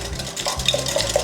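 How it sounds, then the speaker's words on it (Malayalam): A whisk stirring raw mango juice in a bowl, giving quick light clinks and swishes against the container, close and clear with no voices. "ഒരു വിസ്ക് വെച്ചോ ഇതുപോലെ ഇളക്കി കൊടുക്കാം"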